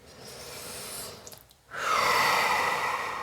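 Deep breathing during a guided meditation: a soft breath sound, a brief pause, then a louder, sustained airy exhale or inhale close to the mic, with no talk.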